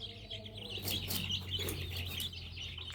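Small bantam chickens cluck and chirp in quick, short bursts close by, over a low steady hum.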